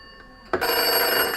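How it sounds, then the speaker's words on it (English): A black GPO 741 desk telephone on extension 21 bursts into a loud, close electromechanical bell ring about half a second in, and the ring continues to the end. "that's then ringing my black phone on the desk here"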